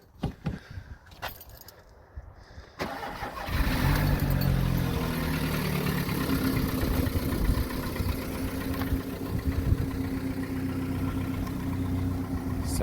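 A VW Golf Mk4 engine fitted with a new exhaust starts and settles into a steady, loud idle with a low, slightly raspy drone; a brief metallic jangle of keys comes first, before the engine fires.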